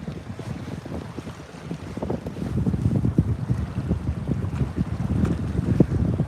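Wind gusting over an open fishing boat on a reservoir in fall, a rough, buffeting roar that grows louder and stays strong through the second half.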